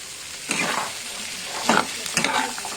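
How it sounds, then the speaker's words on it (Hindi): Chickpeas being stirred with masala in a sizzling pan, heard close up as a steady frying hiss broken by a few scraping strokes of the spoon, with no voices. "ଚଣାକୁ ମସଲା ସହିତ ଆମେ ଭଲ ଭାବରେ ଏହିପରି ମିଶାଇ ଦେବା।"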